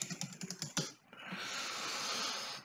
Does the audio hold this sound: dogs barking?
no